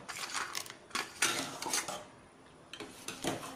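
A metal spoon stirs roasted cashews into carrot kheer in a pan. Short scraping and clinking bursts come in uneven strokes, with a brief quiet pause between them, fairly soft and close.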